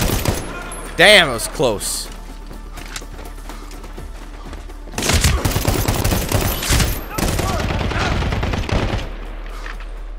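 Gunfire in the shooter game Medal of Honor: Warfighter, with dense bursts of automatic weapons and single loud shots crackling over a busy battle backdrop, while a voice speaks briefly during a lull.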